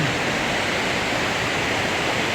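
Water pours over a small mini dam beneath a road bridge on the Bulacan–Nueva Ecija route, a loud, steady, unbroken rushing roar that fills the whole moment without any speech.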